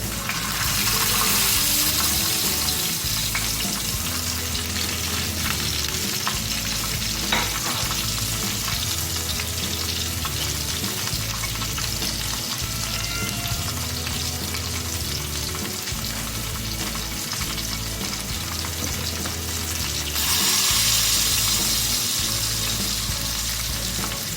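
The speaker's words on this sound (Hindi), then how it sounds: "और हमने जो जो ये 2 टमाटर और हरी मिर्ची ली है, इसको हम इसी ऑयल में रोस्ट करेंगे।" Tomatoes and green chillies roast in hot oil in a pan, making a loud, steady sizzle and crackle close up that runs unbroken for the whole stretch, with no voices.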